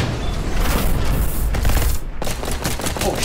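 Enemies open fire in a VR horror shooter game, a continuous loud barrage of rapid gunshots close by, with no voices.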